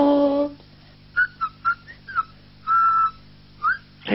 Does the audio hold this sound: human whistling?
yes